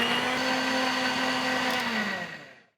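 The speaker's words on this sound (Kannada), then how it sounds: "ಈ ಗ್ರೇವಿನ ಮಿಕ್ಸಿಯಲ್ಲಿ ಹಾಕ್ಕೊಂಡು ಗಂಧ ಥರ ರುಬ್ಕೊಬೇಕು." A mixer grinder grinds tomato curry gravy into a smooth paste, its loud, steady motor whir droning close by before winding down and cutting off.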